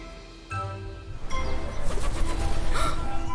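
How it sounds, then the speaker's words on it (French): Pigeon or dove-like bird calling and taking off in a forest, a brief clap then a busy rush of wing flutter and coos, close and fairly loud. "Un oiseau qui s'envole!"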